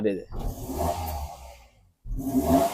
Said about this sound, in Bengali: আমরা একটু ইঞ্জিনের সাউন্ডটা শুনবো ভাই